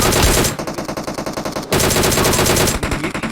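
Automatic gunfire in the mobile battle royale game PUBG Mobile, loud rapid bursts of shots filling nearly the whole stretch with only a brief gap.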